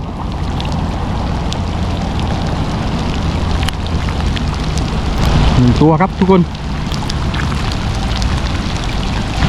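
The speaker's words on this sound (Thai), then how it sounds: "ตอนนี้ก็ฝนตกลงมาแล้วนะครับทุกคน" Heavy rain pours steadily during a tilapia gill-net fishing session, a dense, even hiss running through the whole stretch while someone talks over it.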